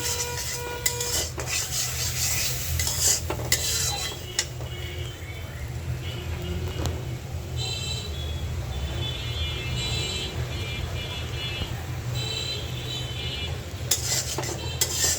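Fish tossed in a pan with chili powder, turmeric, coriander powder and salt, a steady close sizzle with repeated scraping and clinking of a utensil against the pan throughout.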